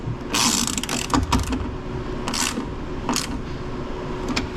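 A ratchet wrench tightens a bolt on a Honda Civic in quick bursts of close, sharp clicking, several short runs of pawl ticks separated by brief pauses, with no talk.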